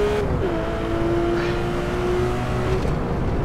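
In a racing video game, a Porsche 997 911 GT3 RS 4.0 runs a lap, its engine holding a steady, loud whine that drops in pitch then sustains, with a brief rise near the end.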